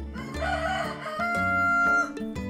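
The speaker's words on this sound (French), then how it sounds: "Voici le coq." A rooster crows in a drawn-out cock-a-doodle-doo on a farm, mixed with steady background music across the whole stretch.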